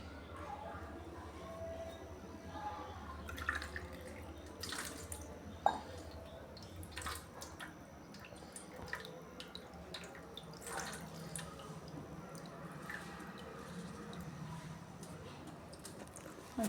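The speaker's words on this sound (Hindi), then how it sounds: "धीरे धीरे उनके पैर हाथ में धीरे धीरे पानी को गिराइए।" Water trickles slowly from a conch shell over a small Laddu Gopal idol during a bathing ritual, a faint, quiet pour with soft drips, while someone talks over it.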